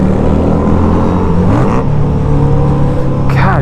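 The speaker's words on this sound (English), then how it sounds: "God damn, that bike is so loud." A 1998 Honda Goldwing motorcycle engine roars loud and close, revving with rising and falling pitch throughout, a heavy continuous drone.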